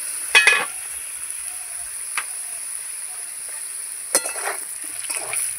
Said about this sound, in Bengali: লবণ ভালো করে এবার নেড়ে করে আলুটাকে লাল লাল করে ভেজে নেব।